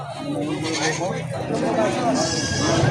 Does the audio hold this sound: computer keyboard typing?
no